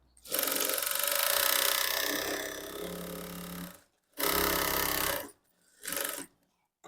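A sewing machine stitching a blouse runs in three bursts, first a long continuous whir of about three and a half seconds, then two shorter runs, each separated by brief silence.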